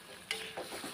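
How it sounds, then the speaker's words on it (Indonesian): Cucumber and green beans cooking in a pan for a stir-fry, a soft bubbling sizzle with a few light clinks and stirring noises, quiet and close, with no voices. "Tuh kan udah mendidih sahabatku."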